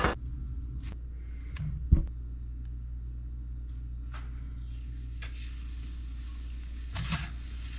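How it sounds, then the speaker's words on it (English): Crappie fillets drop into grease heated to about 360 degrees and fry with a steady, close sizzle, broken by a few sharp pops and clicks. "We're going to pat the fillets dry and then dip them and then drop them in the grease."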